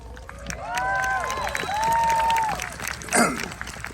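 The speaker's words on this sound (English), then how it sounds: "see a giant crowd of people having a good time and celebrating the life of who I think is a real genius" Large outdoor crowd at a celebration of life cheering and clapping, a diffuse roar with individual voices whooping over it and one sharp burst of applause near the end.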